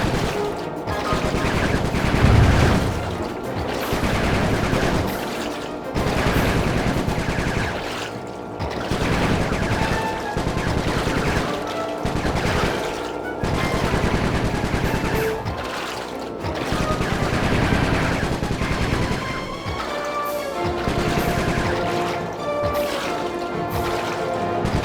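Rapid bursts of gunfire in the video game Sly 3: Honor Among Thieves, loud cracking shots and machine-gun volleys repeating throughout with explosive hits and a game score underneath.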